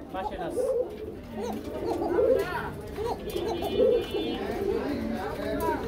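Pigeons at a pigeon market coo in soft, repeated throaty phrases, close by amid a busy background of chatter and ambient noise.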